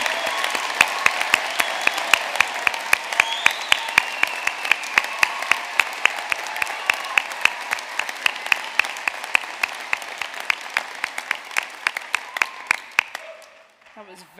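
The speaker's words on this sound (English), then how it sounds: "let's give our class of 2025 a massive round of applause" Applause from a graduation audience for the Ulster University class of 2025 at an evening ceremony in Belfast: sustained, even clapping from a large crowd for over ten seconds, with sharp individual claps standing out, fading near the end.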